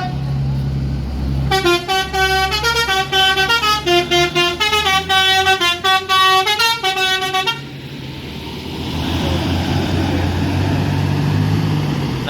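A PO NPM Kazana Executive bus leaving the terminal plays a loud, rapid melodic horn tune for about six seconds over its idling engine, then the engine rumble carries on alone with faint background talk.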